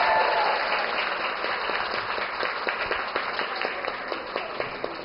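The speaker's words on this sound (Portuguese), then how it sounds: "uma grande salva de palmas, Flor, que está aqui com a gente" A TV studio audience breaks into sustained applause, a dense, even wash of many hands clapping that holds steady throughout.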